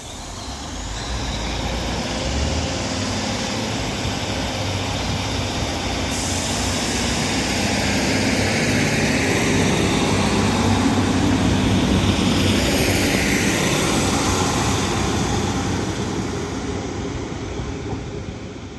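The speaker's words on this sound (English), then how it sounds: "This Northern 150 and 156 departs Rochdale with the 12:22 Northern service to" Northern class 150 and 156 diesel multiple units pull out of Rochdale station on the Calder Valley line, their engines droning steadily and swelling as the train accelerates away, loud and sustained with no talk.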